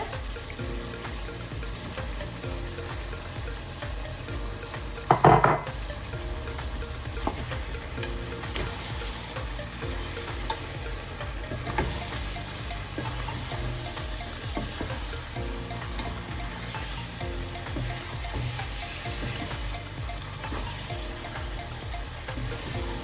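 Dried fish and chilli sizzle and fry steadily in a pan, with occasional stirring clatter and a sharp clunk partway through, continuous and moderately loud.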